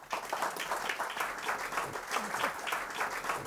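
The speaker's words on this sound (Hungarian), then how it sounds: "Hát akkor ez a taps szólt Csath Magdolna professzor asszonynak." An audience at a free university lecture on battery factories applauds steadily after a talk by a professor, a dense, continuous clapping with no voices standing out.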